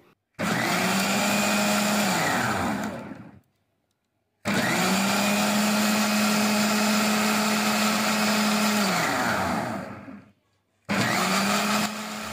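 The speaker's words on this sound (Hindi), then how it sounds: "अब इस जार को बंद करके इसे कुछ सेकेंड के लिए हम ब्लेंड कर लेते हैं" A household mixer grinder whirs loudly as it blends cold milk coffee in a closed jar, running in three bursts of about three and six seconds, the last cut short, with near silence between.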